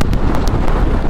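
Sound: strong wind

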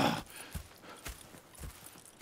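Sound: horses walking, from the video game Red Dead Redemption 2

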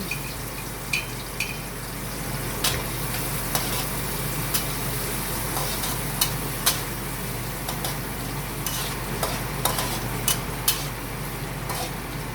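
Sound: sautéing ginger and garlic in a pan

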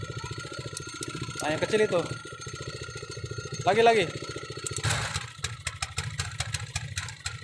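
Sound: fuel-efficient outboard boat engine running

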